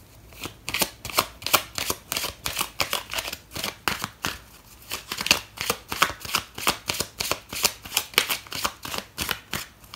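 A deck of tarot cards is riffled and shuffled over and over, giving a close, crisp run of rapid flutters in a quick, steady rhythm with brief pauses between bursts.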